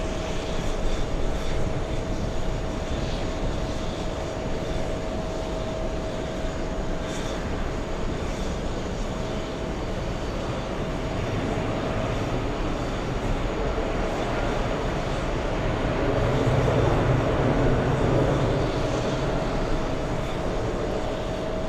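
Steady distant roar of an Aer Lingus airliner flying in to land near the TWA Hotel on a windy, darkening evening, a continuous broad rumble with a faint tone that swells slightly toward the end, no voices.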